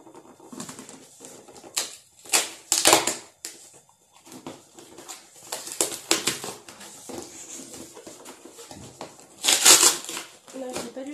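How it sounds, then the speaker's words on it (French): Crinkling and tearing of a Colissimo postal parcel's plastic packaging as someone struggles to open it, in bursts of rustling and ripping with pauses between, close by. "Les colissimo de la poste sont juste horribles à ouvrir."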